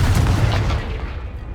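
A Confringo blasting spell detonates in Hogwarts Legacy, one heavy, close boom that rolls off into a fading rumble.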